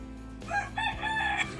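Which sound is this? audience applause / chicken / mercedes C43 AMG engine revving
chicken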